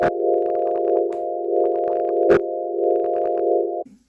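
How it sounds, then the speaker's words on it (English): A steady, bright synth pad, stereo-widened with a Flingus "Stereoized" preset, holds one sustained chord with a wide, buzzing texture, broken by soft ticks and a sharp click, then cuts off. "I wanted the pad to spread out in the mix a little bit"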